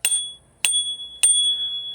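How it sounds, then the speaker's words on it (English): Three crisp rings of a click bell on a ZapRun W6 big-tire electric scooter, evenly spaced, each a sharp strike that leaves a bright, sustained metallic tone ringing, close and clear. "it does come with a click bell."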